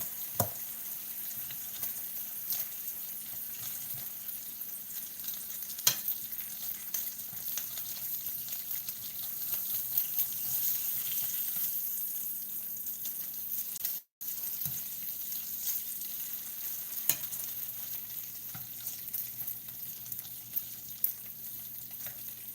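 Bacon sizzles in a pan after water is splashed in to loosen stuck pieces, a steady, fairly quiet hiss and crackle throughout with occasional sharper pops and clicks.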